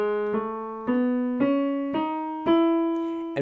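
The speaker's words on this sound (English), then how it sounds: "the E Ionian mode itself sounds like this, with each note played in sequence." Piano plays the notes of the E Ionian mode one after another in a steady ascending sequence, seven clear struck tones each ringing into the next, close and unaccompanied.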